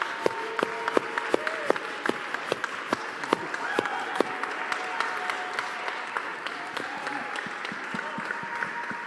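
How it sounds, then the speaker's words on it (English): A congregation at a Sunday Christingle service applauds steadily, a dense run of close, sharp hand claps that continues for several seconds without a break. "Can we just give them a massive round of applause for all they've done?"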